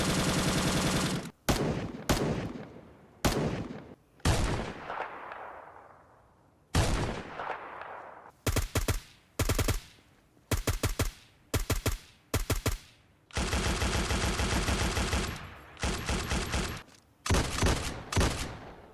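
Gunfire from a weapon mod in the video game Project Zomboid, with loud sharp shots in single cracks, quick bursts and rapid automatic strings, several separated by decaying echoes and brief silences, and no speech.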